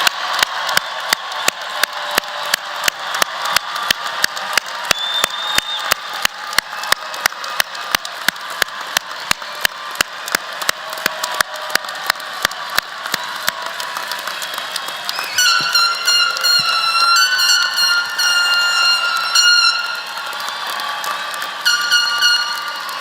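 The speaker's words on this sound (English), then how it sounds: "Let us give one more round of applause to these wonderful graduates" Law school graduates at a 2019 commencement receive applause that is preceded by a long run of rapid, regular mechanical ratcheting clicks, with dense clapping and higher tones filling the final seconds.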